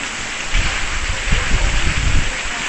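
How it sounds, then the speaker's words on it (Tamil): A summer hailstorm on a farm, hail and heavy rain pelting down in a dense, steady hiss with scattered harder impacts, loud and continuous throughout. "கற்கன் மாதிரி பாருங்கள் ஆலங்கட்டி மழை"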